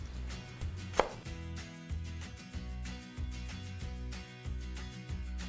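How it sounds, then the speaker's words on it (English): A knife minces garlic cloves on a board in quick, even taps, with one sharper hit early on, over a low droning background and no talk. "we're gonna mince 4 cloves of garlic"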